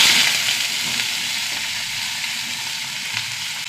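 Cumin and onions crackle in hot oil with a loud, even hiss and sizzle, a few faint pops and light stirring sounds mixed in.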